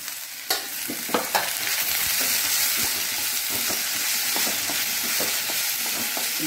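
Poha (avalakki) pulav is stirred in a frying pan, a steady sizzle of frying under repeated scraping strokes of the spoon, close and fairly loud with no talking.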